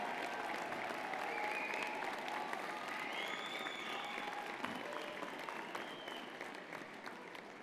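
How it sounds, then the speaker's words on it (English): Graduands at a university convocation ceremony cheer and applaud in a large hall, a dense, steady roar of clapping mixed with whoops and whistles that eases slightly toward the end. "Wave and cheer, make some noise, show them you're grateful for all their support."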